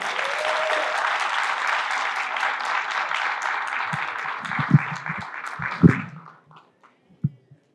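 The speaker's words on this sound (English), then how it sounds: "Give them a round of applause as they come." A school board meeting audience applauds as a class comes on stage, steady clapping for about six seconds before it thins out, followed by a few scattered thumps and murmurs.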